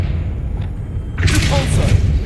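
A Confringo fire spell explodes in the Hogwarts Legacy video game, a sudden loud blast and crackling burst arriving midway and sustaining through the end over a low rumbling game background.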